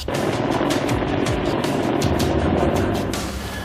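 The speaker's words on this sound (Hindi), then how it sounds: "चुनूक हेलीकॉप्टर ठीक हमारे सामने रनवे पर लैंड करता हुआ" A Chinook twin-rotor military helicopter of the Indian Air Force lands on a runway, making a loud, steady rotor thump and engine roar close by.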